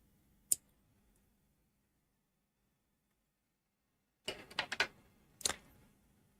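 Small scissors give a few sharp, faint snips while cutting embroidery thread during cross-stitching, first one isolated click and then a short cluster a few seconds later, in a quiet room.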